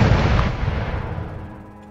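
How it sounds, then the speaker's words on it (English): A single heavy cannon blast in the Roblox horror game Judy, a loud booming report up close that rolls off into a fading rumble. "I'm shooting the cannon fire."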